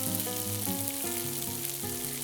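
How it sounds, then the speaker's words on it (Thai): Diced onion sautés in a hot pan with a steady, close sizzle and crackle, while melodic background music plays throughout. "อันนี้เราผัดหอมใหญ่ก่อนเพราะว่าให้หอมใหญ่เขาแบบสุกก่อน"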